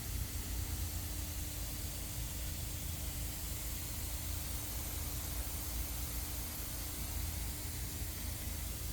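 Steady, soft hiss of fine water spray from greenhouse misters runs continuously without pause, even and close, with no voices.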